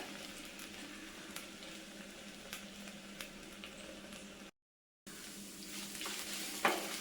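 Okra (vendakka) frying in a pan produces a steady, close sizzle with occasional soft stirring scrapes. A brief silent gap interrupts it, and the sizzle returns slightly louder.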